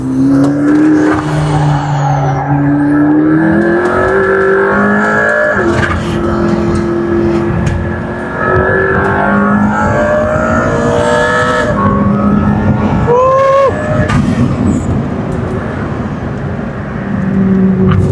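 McLaren P1 supercar at full throttle around 170 mph, a loud continuous engine roar with rising and falling gear-change sweeps and a sharp shift near the end, tire noise underneath, no talking.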